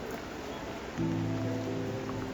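Steady rain falls on a forest trail along a river in Glacier National Park, a dense even patter throughout, joined halfway by a louder low droning layer, with no voices.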